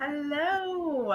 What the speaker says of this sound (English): Yeah, that was the cat.